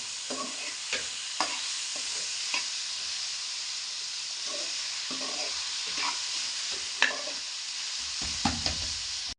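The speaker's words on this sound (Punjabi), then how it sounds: "3 ਤੋਂ 4 ਮਿੰਟ ਹੋ ਗਏ ਸਾਨੂੰ ਚਿਕਨ ਨੂੰ ਪਕਾਉਂਦੇ ਹੋਏ" Chicken frying in a pan over a medium-low gas flame for a spinach chicken dish, giving a steady sizzle with occasional stirring scrapes and clinks close by.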